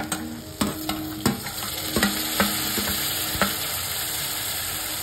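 Tomatoes going into a hot frying pan for eggplant bharit, giving a crackling sizzle over several sharp scraping knocks from a spatula or spoon against the pan in quick, uneven succession.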